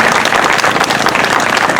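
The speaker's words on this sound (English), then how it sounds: "So a round of applause for that gentleman there" A crowd at a memorial hall justice rally breaks into sustained applause for a man, a dense steady wash of many hands clapping at once, loud and even throughout with no talking over it.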